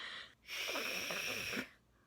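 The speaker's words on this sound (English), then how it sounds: "Heavy breathing." A single heavy, wheezy breath drawn close to the microphone, lasting about a second between brief pauses, with no talking.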